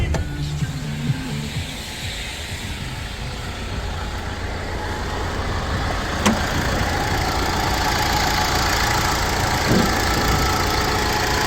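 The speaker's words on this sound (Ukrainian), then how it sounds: "І на завершення покажемо вам роботу двигуна." A used commercial van engine with 120,000 km on it idles with a steady low rumble heard up close, joined by broadband hiss and an occasional faint tick.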